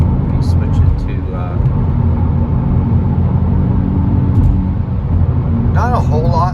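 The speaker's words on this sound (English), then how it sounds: "I've got the exhaust in the quiet mode at the moment" Low, steady exhaust drone from a 2023 Hyundai Elantra N with a manual gearbox cruising on the highway in quiet exhaust mode, a constant rumble with road noise and brief voice fragments on top.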